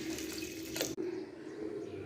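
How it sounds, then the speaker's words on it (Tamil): Water poured over a quarter kilo of elephant foot yam in a pot for boiling, a brief steady splashing stream near the mic that stops abruptly, leaving a low hum. "தண்ணி ஊற்றி வேக வச்சுக்கலாங்க."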